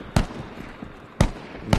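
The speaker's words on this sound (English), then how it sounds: "Oh, I'm getting shot at." Gunshots fire at the player in the VR shooter Contractors Showdown: three sharp, close cracks spaced about a second apart, each a brief loud burst over quiet background noise.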